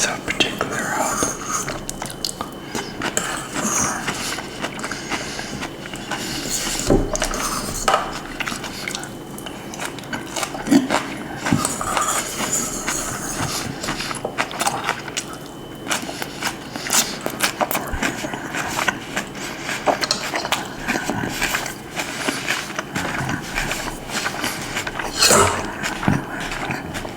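Close crunchy bites and wet chewing of a fresh salad, repeated steadily throughout, with soft whispering underneath and a few light utensil clicks.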